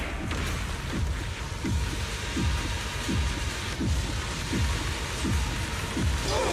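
Rain attack effect in the video game Zenless Zone Zero: a steady wash of rain-like hiss with repeated low swooping thuds landing about every 0.7 seconds, loud and sustained throughout.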